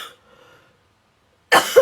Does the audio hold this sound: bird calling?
no